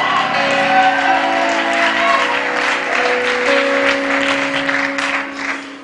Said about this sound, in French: Est-ce qu'on peut bien acclamer le Seigneur ici?